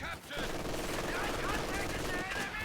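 A machine gun in a real-time strategy game fires a dense continuous burst, rapid rattling shots layered with battle noise, loud and sustained across the moment.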